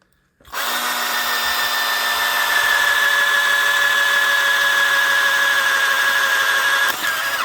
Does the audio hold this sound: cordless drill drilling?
yes